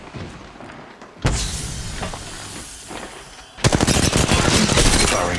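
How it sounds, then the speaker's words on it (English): Gunfire in Apex Legends Mobile, a quieter stretch of shots and hiss followed by a loud, sustained rapid burst of automatic fire, close and without speech. "Opening fire on the enemy."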